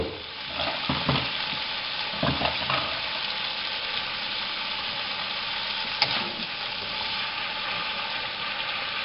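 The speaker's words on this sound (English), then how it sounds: "now we are going to add our noodles" Noodles sizzle steadily in a hot pan of allergen-friendly stir fry, with a continuous close frying hiss and intermittent scrapes and stirring clinks.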